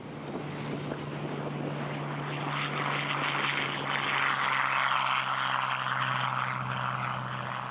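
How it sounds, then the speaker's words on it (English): Spitfire fighter plane taking off, its propeller engine giving a steady broad roar with a low droning hum, loud and sustained, swelling slightly midway and easing off at the end. "Another Spitfire scrambles for takeoff"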